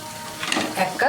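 Chicken filling is stirred in a pan over a gas flame, giving a soft sizzle and a few scraping strokes in a brief, quiet burst.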